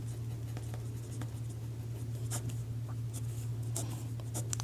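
A pen scratches steadily across paper while a maths solution is written out, producing close, soft strokes over a constant low electrical hum, with no talking.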